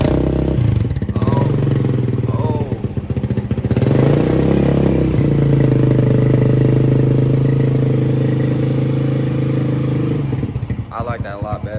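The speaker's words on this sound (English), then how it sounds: "This is his first start with his new full exhaust." A 2019 Kawasaki KLX 140L dirt bike fitted with a Yoshimura RS-9 full exhaust starts up and settles into a loud, steady idle with some revving, close by, before cutting off near the end.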